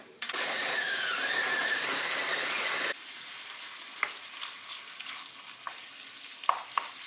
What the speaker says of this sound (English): I'm just frying up with a bit of salt and pepper this turkey breast